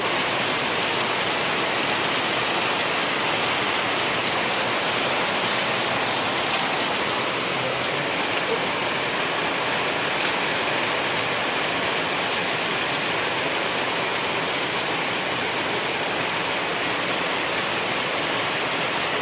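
Heavy rain falls steadily outdoors at a rural home, a dense unbroken hiss and patter of drops on surfaces, loud and even with no talk.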